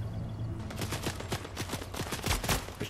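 Fortnite gunfire: a steady run of repeated automatic shots, moderately loud and close, rattling for a couple of seconds against faint game ambience.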